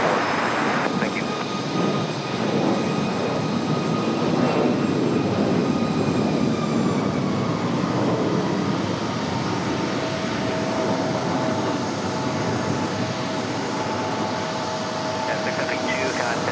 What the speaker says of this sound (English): The Delta 1550 from Atlanta already touching down.